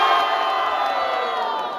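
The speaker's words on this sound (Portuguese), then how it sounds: "Barulhos pra quem curtiu as rimas de Barreto!" At a rap battle, a loud crowd cheers and roars continuously for a rapper's rhymes, a dense wash of voices at steady volume throughout.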